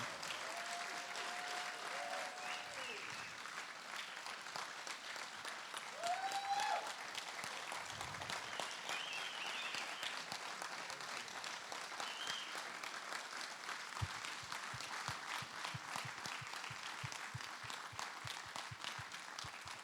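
An audience claps steadily for about twenty seconds in honour of Steve Rowe at a 2022 celebration event, the applause a dense, even wash with no voices over it.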